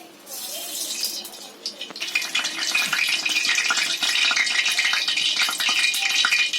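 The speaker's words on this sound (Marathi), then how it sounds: "आता त्याच्यामध्ये तेल टाकते." Oil is poured onto a hot iron griddle over a low gas flame while preparing a Konkani-style dhomi fish fry. A bright, steady sizzle rises after a quieter start and holds close and fairly loud to the end.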